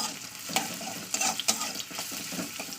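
Onions frying in hot mustard oil in a wok for a Bombay duck dish, a close crackling sizzle broken by several sharp stirring scrapes and spatters.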